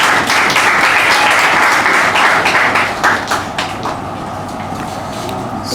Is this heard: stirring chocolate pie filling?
no